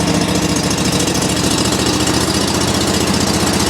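A John Deere 345 lawn tractor engine runs loud and close after a cold start in freezing weather, a steady, rough, chugging drone with no pauses.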